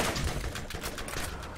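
Rapid bursts of gunfire strike the player in the Borderlands shooter game, a dense crackling barrage of shots packed closely together, loud and continuous across the short moment.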